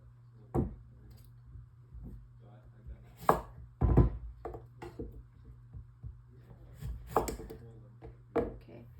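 A knife chops the ends off butternut squash in a few firm, separate thuds on a cutting board, close and sharp against a quiet kitchen hum.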